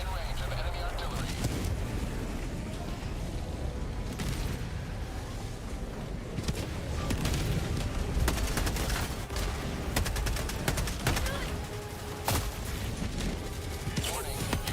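Continuous video-game gunfire and artillery-style firing fill the whole stretch, dense and loud, with bursts and booms layered under an automated voice announcing warnings.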